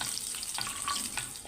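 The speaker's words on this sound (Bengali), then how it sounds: "এটা একটু ভাজা হবে।" Nigella seeds, bay leaf, dried red chili and browned garlic fry in hot oil, giving a steady crackling sizzle with faint stirring throughout.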